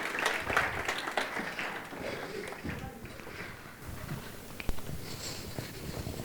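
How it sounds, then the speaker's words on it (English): Audience applause at an evening panel event on women's careers in a hybrid workplace, a steady wash of many hands clapping that gradually thins out as a speaker is welcomed on stage, with some background voices. "Let's please give him a round of applause."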